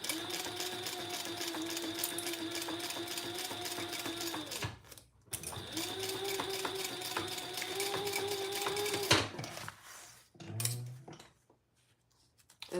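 A sewing machine stitches binding onto a piece in two long steady runs of fast, even mechanical whirring, with a brief pause between them and near silence with small handling noises at the end.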